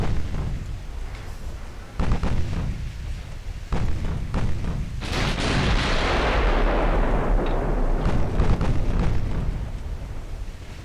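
Naval artillery from battleships in the game Ultimate Admiral Dreadnoughts: several heavy booming gun blasts with rumbling tails, followed by a long roaring, hissing barrage that swells and fades, with no talking.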